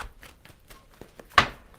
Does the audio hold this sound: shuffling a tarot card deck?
yes